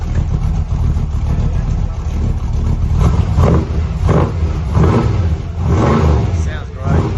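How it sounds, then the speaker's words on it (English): A 1965 Chevrolet Impala convertible engine idling with a loping, rhythmic rumble heard close up, steady throughout, with a voice talking over it. "The car's running. It's charging the electrical system."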